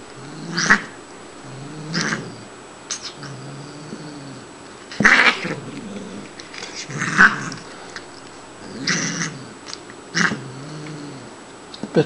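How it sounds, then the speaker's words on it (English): A female cat growls and caterwauls in repeated drawn-out yowls during play, close and fairly loud, separated by short pauses over a quiet indoor background. "this cat is always talking to me. In kitty language."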